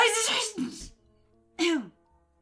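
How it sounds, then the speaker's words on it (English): A violent sneeze from Noelle in the video game Butterfly Soup, a sharp voiced burst with a wheezy tail, followed after a pause by a second short vocal outburst. "Noelle sneezes violently."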